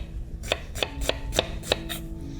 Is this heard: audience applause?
no